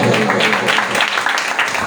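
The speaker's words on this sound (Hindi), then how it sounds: "आइए कलाम के लिए और खुदा के खादम के लिए जोरदार ताली बजाएंगे" A congregation at a Sunday church worship service claps in loud, dense, continuous applause that fills the room, with voices mixed in.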